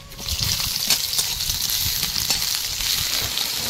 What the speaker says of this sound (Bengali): কড়াইতে আবারও একটু তেল দিয়েছি, এর মধ্যে দেবো পেঁয়াজ কুচি।